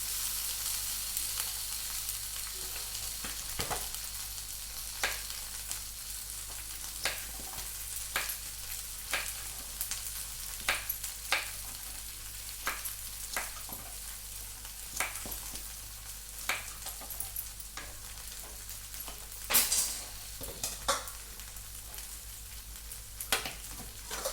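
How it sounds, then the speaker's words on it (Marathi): Bhindi (okra) fries gently over low heat in a pan, giving a soft continuous sizzle broken by scattered clicks and scrapes of stirring, with no voices. "भेंडी चांगली होऊ द्यायची कमी वेगात"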